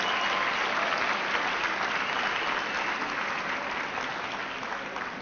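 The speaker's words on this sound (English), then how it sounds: "Please give all of them a huge round of applause." Sustained audience applause at an AmeriCorps 20th anniversary celebration, dense and steady clapping that slowly fades toward the end.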